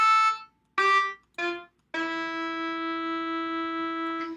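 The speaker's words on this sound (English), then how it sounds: "this is the sound of the current sax that you heard" A reedy synthesized saxophone plays three short notes, then holds one long sustained tone with a slight waver, clear and close with no other sounds.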